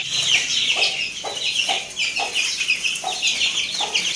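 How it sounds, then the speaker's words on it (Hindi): Hens cluck and chicks cheep continuously, with a steady chorus of high peeping over periodic lower clucks, fairly close and lively. "मुर्गी और चूजों को छोड़ देते, इन्होंने बड़ा शोर मचाया हुआ है।"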